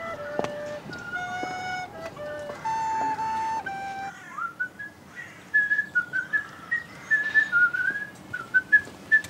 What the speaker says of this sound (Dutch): Dus als u het niet erg vindt, dan fluit ik verder.